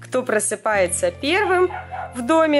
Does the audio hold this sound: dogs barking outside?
yes